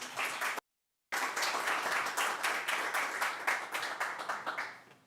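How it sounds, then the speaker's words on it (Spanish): An audience applauds a speaker named Lucía at a formal session, a dense, steady patter of many hands clapping that cuts out briefly near the start and then resumes at full strength, trailing off slightly at the end. "Fuerte aplauso, por favor, para Lucía."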